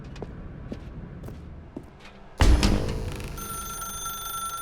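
A telephone in The Stanley Parable video game starts ringing suddenly after quiet footsteps and a soft room ambience, loud and sustained with a bright electronic tone.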